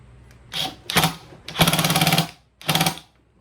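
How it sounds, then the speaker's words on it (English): An impact wrench with a 21mm socket working on a Go Power Sports Rascal mini bike, firing in four short rattling bursts separated by pauses, the third longest, loud and close with nobody speaking. "Use our impact wrench again with our 21mm head on it."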